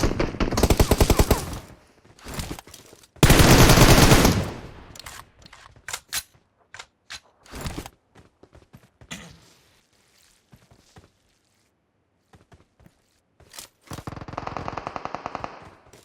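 Gunshots in a shooter video game fire in sharp separate shots and short rapid bursts, loud and close, with quiet gaps between them and one long dense volley.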